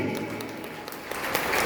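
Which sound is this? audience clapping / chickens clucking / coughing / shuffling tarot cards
audience clapping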